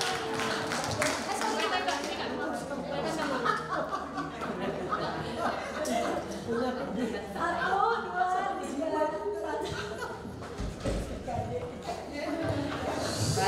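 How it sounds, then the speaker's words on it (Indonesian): Women at a church women's section seminar clap their hands together, scattered and uneven claps mixed with chatter, laughter and voices talking nearby across the whole stretch. "kita tepuk tangan semua."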